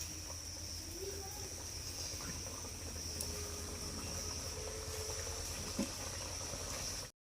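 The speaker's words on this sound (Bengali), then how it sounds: "বাদ বাকি সমস্ত খাজাগুলো আমি তেলের মধ্যে ছেড়ে" Khaja pastries sizzle in hot oil, a steady bubbling hiss of frying that runs continuously with a few faint clinks, then cuts off abruptly.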